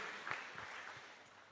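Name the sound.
congregation applauding in church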